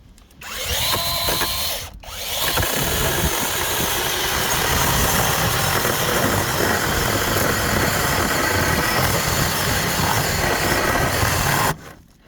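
A battery chainsaw motor whirs loudly and steadily for about ten seconds after a brief start, with the harsh grinding noise of cutting through wood.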